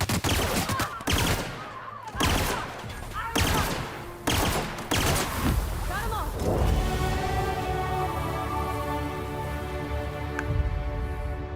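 Gunfire from a weapon in The Outer Worlds video game: several loud, rapid bursts separated by brief gaps, then the shooting gives way to a steady ringing, tonal game ambience.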